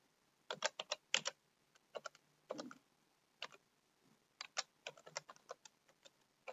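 Clicky computer-keyboard keys tapped on a Linux Ubuntu machine in quick irregular clusters with short pauses between them, close and clear in a quiet room.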